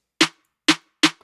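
Three sharp hits of a layered snare drum sample, evenly spaced and alone, each a bright crack with a short noisy tail and a body thump beneath.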